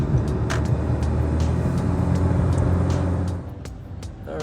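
A 10th-generation Honda Civic accelerates to freeway speed with a steady, loud engine and road drone that holds for several seconds, then eases off near the end.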